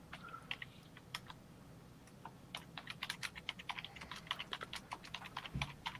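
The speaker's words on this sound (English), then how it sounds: "Sorry, guys, I'm typing." Rapid typing on a computer keyboard, with quick irregular clicks and clacks for several seconds at close range, with no talking.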